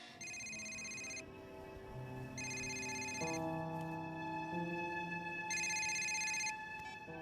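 A telephone rings in repeated bursts, a bright electronic trill that starts, pauses and returns several times, with sustained musical tones from a film score playing underneath.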